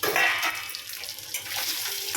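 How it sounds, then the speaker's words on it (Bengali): Fish frying in a pan, a soft continuous sizzle and crackle with faint stirring. "এখানে মাছ ভাজা চলছে, এই যে মাছ ভাজছি"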